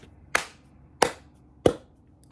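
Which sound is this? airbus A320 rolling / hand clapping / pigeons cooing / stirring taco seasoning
hand clapping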